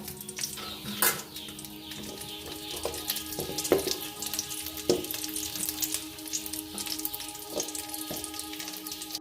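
Dry fruits and nuts sizzle and rattle in a hot pan, with scattered crackles and occasional scraping clicks of stirring over a steady frying hiss.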